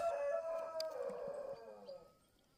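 Chickens and a rooster in a henhouse: a rooster crows once, loud and drawn out, fading toward the end, with a few faint clucks around it.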